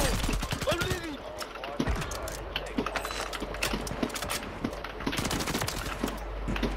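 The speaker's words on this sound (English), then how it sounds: "I just was shooting at some guy" Rapid bursts of gunfire in a video game shooter, sharp repeated shots in quick fusillades spread across several seconds over a constant low background rumble.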